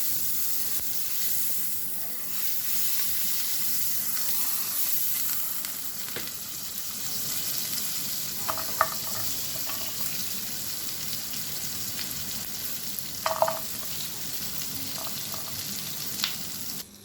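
Chicken sizzling on a very hot frying pan, a steady loud hiss running throughout with a few brief sharper spits and pops later on, no voices.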